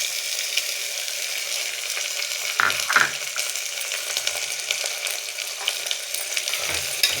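Potato, tomato and green peas fry in a pan with a steady, loud sizzle, while a utensil stirs them and clinks against the pan a few times, and no one speaks.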